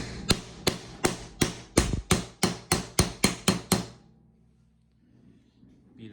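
A rivet setter on a leather cigar stand is struck about eleven times in a quick, steady run of sharp, close hammer taps, followed by a quiet pause.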